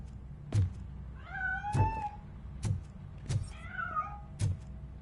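A cat meows twice in drawn-out wavering cries, interspersed with repeated dull thumps, fairly quiet and without talking.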